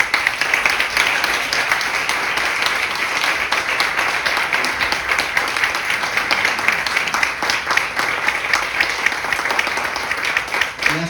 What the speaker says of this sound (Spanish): El aplauso está tardando